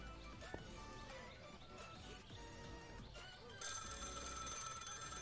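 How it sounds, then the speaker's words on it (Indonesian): A telephone bell starts ringing partway through, bright and sustained after a quieter stretch of faint game sounds from a Minecraft setting. "Telepon."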